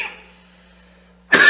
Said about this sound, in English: Let me stop coughing so I can get this out perfectly clear